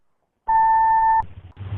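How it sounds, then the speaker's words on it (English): Answering machine beep: a single clean, steady electronic tone held for most of a second alone, then cut off into faint room noise. "Please leave your name and phone number after the beep."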